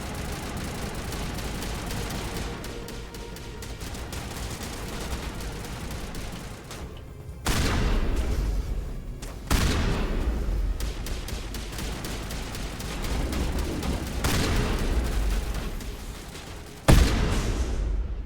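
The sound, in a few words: shotgun gunfire in video game Mass Effect: Legendary Edition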